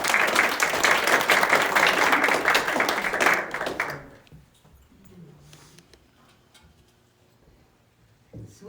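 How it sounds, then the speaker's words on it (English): A burst of applause from a church congregation, dense clapping for about four seconds that then stops abruptly, leaving a quiet room with faint noise. "So please, a round of applause."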